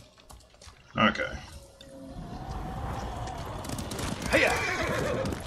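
In the video game Ghost of Tsushima, a horse whinnies sharply, then hooves clip-clop steadily under a busy game soundscape, with a voice shouting briefly.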